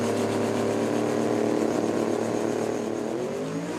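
A Supra and a Mustang launch side by side at a drag strip, the engines roaring loud and steady with a rising harmonic whine as they pull away down the track.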